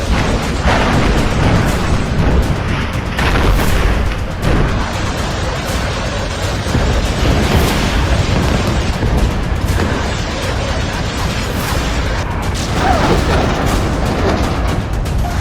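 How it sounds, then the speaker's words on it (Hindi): Loud, rumbling explosions and blasts from missiles and bombs in the Israel-Hamas conflict pile up in a dense, continuous barrage, with booms overlapping throughout. "धमाके पर धमाके हो रहे हैं।"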